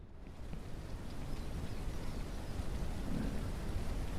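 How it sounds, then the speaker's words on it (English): Rain falls in the farming game Ranch Simulator, a steady soft hiss and patter with a low rumbling undertone, continuous and moderately quiet, with no speech over it. "unfortunately, it is raining."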